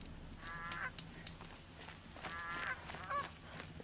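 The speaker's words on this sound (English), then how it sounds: "I swear they put these indestructible geese here just to torment everybody that can't find them" Geese honk in the video game Horizon Zero Dawn, with two bursts of nasal calls and a shorter third one. They sound moderately close over a soft ambient game background.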